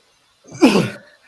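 A single short sneeze from an adult man, close and fairly loud, alone with no talk around it.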